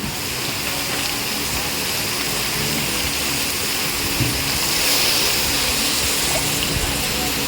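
Water poured into a cooking pot for Kapampangan-style pork kilayin, a steady splashing rush that runs evenly from start to finish.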